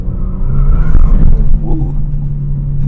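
A Kia Stinger GT2 sports sedan engine revs loudly on a downshift, a steady low drone with a rising blip, heard from inside the cabin with chatty tire noise underneath.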